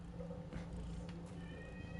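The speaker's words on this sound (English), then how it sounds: "That's actually a pretty detailed cat" A cat in the PS4 game Dreams gives faint meows over a low steady game background hum, quiet and without any talking.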